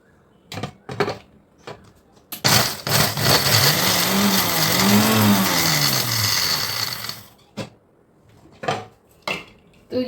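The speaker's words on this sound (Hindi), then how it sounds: "तो इन मिर्चियों को हमने मिक्सी में डाल दिया है" A mixer grinder whirs loudly for several seconds, grinding dried red chilies, with clattering knocks before and after.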